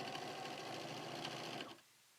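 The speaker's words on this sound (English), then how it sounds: "So you're just going to stitch your two strips together." A sewing machine stitches two fabric strips together for a quilt block, running in a fast, even whirring burst close by before stopping abruptly near the end.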